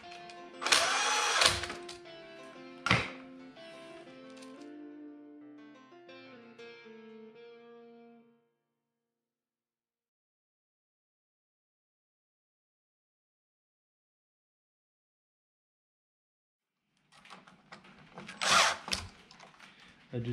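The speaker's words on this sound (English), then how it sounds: "I'll screw these back in here that we're not using." A power drill drives screws back in during a skid house build, a few short whirring bursts and a ratcheting grind up close, followed by a long silence and another brief burst at the end.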